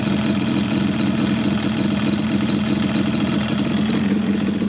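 A Land Cruiser engine idles steadily close by, an even low rumbling drone with a fine rapid pulse and no change in pace.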